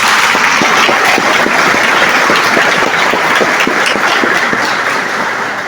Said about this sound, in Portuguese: Se você crer, aplauda o teu Deus